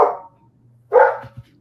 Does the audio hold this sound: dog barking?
yes